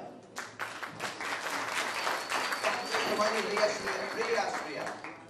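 A crowd at the launch event for a television show claps in a sustained burst of applause that swells in the middle, with some voices mixed in.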